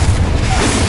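A Confringo spell explosion in Hogwarts Legacy, a loud, broad, sustained booming blast filling the whole short moment.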